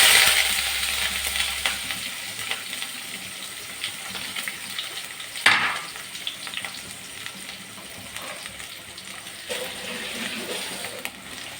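Fenugreek seeds, dried red chillies and sliced small onions sizzle steadily in hot oil, a close continuous crackle with a sharp clink of a utensil midway and soft stirring scrapes throughout.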